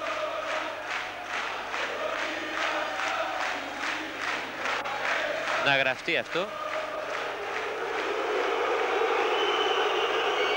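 Crowd at a 1993-94 Greek basketball game between PAOK and Pagrati booing and jeering the two referees, a sustained roar of disapproval filling the arena under an announcer's commentary, with a brief burst of whistling midway.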